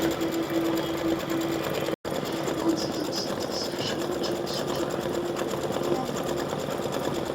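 A computerized embroidery machine stitches a gnome's nose in semi-light pink thread on a Thanksgiving gnome appliqué, a steady close whirring hum with rapid needle chatter and a brief break partway through.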